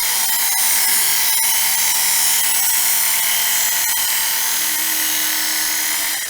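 A Work Sharp electric knife sharpener grinds a knife blade in a steady, loud, high-pitched whine, continuous for several seconds with brief small catches as the pass goes on, no voices.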